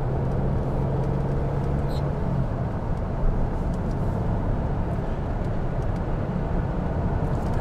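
A 1984 BMW CSi with a five-speed manual gearbox drives along with a steady, loud engine drone and road rumble inside the cabin. No distinct gear change stands out.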